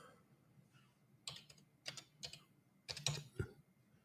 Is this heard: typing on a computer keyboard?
yes